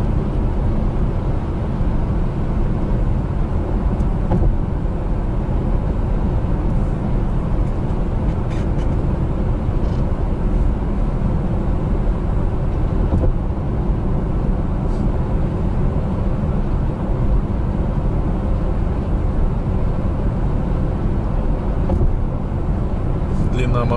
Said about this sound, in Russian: Едем, едем по ровному новому мосту.